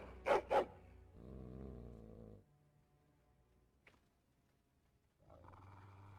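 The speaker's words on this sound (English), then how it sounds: "He stares at the door and growls." A dog growls at a door in the video game Dragon Age: Origins, giving a couple of sharp barking bursts followed by a low, rumbling growl that fades into near silence before another growl returns.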